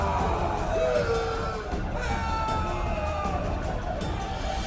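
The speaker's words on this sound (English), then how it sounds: "One person finds the courage to face the raging crowd." A rioting crowd in a video game intro, with shouts and whoops rising over a dense roar of many voices amid elves and dwarves, steady and fairly loud.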